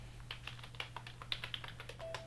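Quiet computer keyboard typing, a run of close, light key clicks in an irregular rhythm over a low steady hum.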